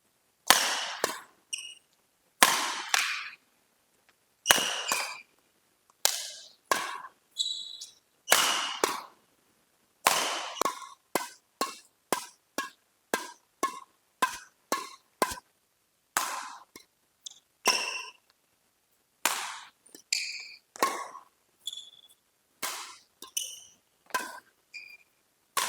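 Badminton strokes (smashes, drops and net shots) struck on court with a Yonex BG-strung racket: dozens of crisp, sharp, close string pings in an irregular run, some quickly doubled, each with a brief ring and quiet gaps between, with no talk.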